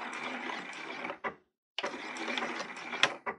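A sewing machine runs stitches along a napkin, stops briefly, then reverses to backstitch and runs forward again; steady close whirring in two bursts with a short gap, no talk.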